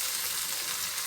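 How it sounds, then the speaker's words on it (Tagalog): Shrimp paste (alamang) fries in hot oil while pakbet is being cooked, giving a brief, steady, close hiss of sizzling with no talk. "So, parang napiprito ng konti yung alamang."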